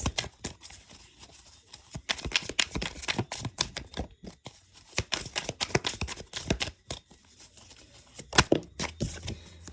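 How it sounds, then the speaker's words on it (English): Tarot cards handled and pulled from a deck, a dense run of crisp slaps, flicks and shuffling clicks in irregular bursts, close and fairly loud, with no talking. "let me just pull the other two cards out"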